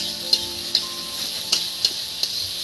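Chopped onions sizzle steadily in a pan while cooking cauliflower curry, a continuous close frying hiss broken by several sharp stirring clicks at regular intervals, with no talking.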